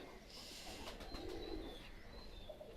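Pakistani high flyer pigeons coo softly at middle distance, a low murmuring call rising and falling over steady background noise, with faint higher chirps from other birds.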